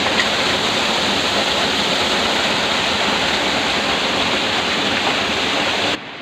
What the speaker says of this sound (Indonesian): Cantik air terjunnya guys.